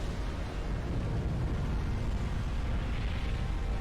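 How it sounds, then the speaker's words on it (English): Large explosion in the real-time strategy game Supreme Commander: Forged Alliance, modded with Total Mayhem: a sustained, dense low rumble that fills the whole stretch at steady loudness with no voices. "There's a pretty big explosion."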